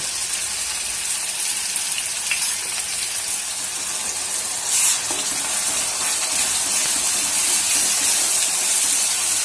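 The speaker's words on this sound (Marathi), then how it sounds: "मसाला चांगला तेलात परतून घेऊ आपण" Masala of chilli, coriander and spice powders frying in oil for Marathi mutton vajadi and rakti, a steady broadband sizzle with light stirring scrapes, close and even throughout with no talk.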